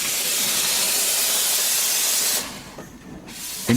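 Steam engine venting a loud, steady hiss of steam that cuts off abruptly, followed by a brief quiet and a short metallic clank at the end.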